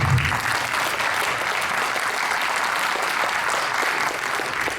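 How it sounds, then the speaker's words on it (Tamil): Audience at a Tamil speech event applauding three children after their speeches, loud sustained clapping from a large crowd, steady throughout. "அருமையாக பேசிய இந்த 3 குழந்தைகளுக்கும் பெரிய கைத்தட்டல்கள்"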